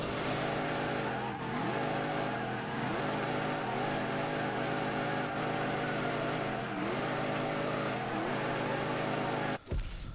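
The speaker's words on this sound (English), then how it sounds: "that was just a celebratory burnout" The Demon doing a celebratory tyre burnout: a steady, loud engine roar held at high revs with rubber screeching, continuous for about nine seconds before a sudden loud burst near the end.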